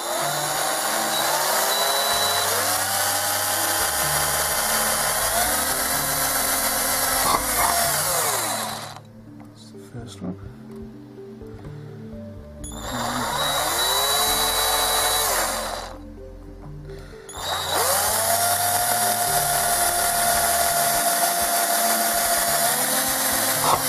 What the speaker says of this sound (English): So first off with the pilot hole in each.